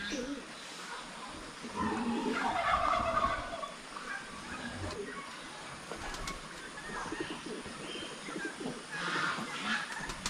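Several turkeys gobble and squabble in bursts, ganging up on a rooster, with rough throaty calls rising and falling against a busy outdoor background.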